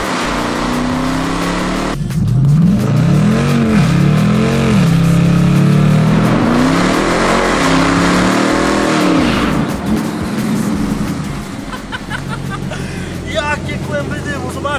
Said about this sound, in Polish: zobaczcie, jak wyglądało moje pierwsze upalenie po odbiorze tego Challengera